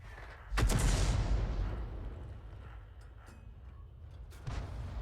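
A leFH18B2 artillery gun in World of Tanks fires a shell with a loud, close boom that rolls into a long rumbling decay, then a second shorter report lands near the end.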